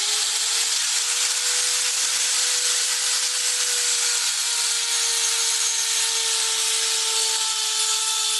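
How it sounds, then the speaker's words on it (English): A wooden piece is sanded down to a taper, giving a continuous loud abrasive whir with a steady motor-like hum running throughout, no voices. "As you sand out, you go from a rounded beginning to a taper, and you do that with sanding."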